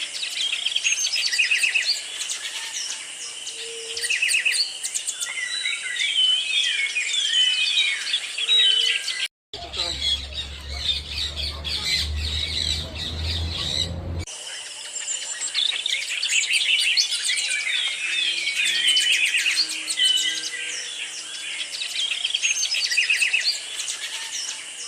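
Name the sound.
birds calling at a bird sanctuary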